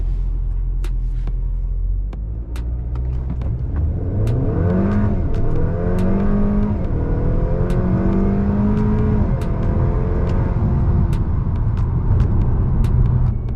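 A tuned Honda Accord 2.0T on a Stage 3 tune runs hard acceleration pulls, its engine note climbing through the revs, dropping briefly and rising again. Sharp clicks cut through the loud, close, steady drone.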